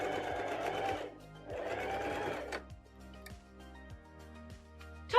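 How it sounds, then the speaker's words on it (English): A sewing machine runs two short bursts of straight stitching to join the ends of an elastic waistband for Luna pants, each whirring run lasting about a second, then quieter mechanical clicks and thumps as it settles, close up. "And then stitch the 2 ends together with a couple of lines of straight stitching."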